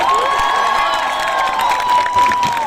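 A large crowd at Aditya Gadhvi's live concert in Ahmedabad claps and cheers, loud whoops and shouts riding over a held singing tone, dense and energetic throughout.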